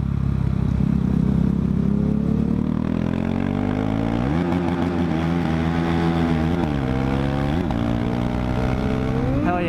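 A motorcycle engine revs hard during a fast night ride through an underpass, the pitch climbing through gears with several sharp rev blips, loud and continuous, with wind noise throughout.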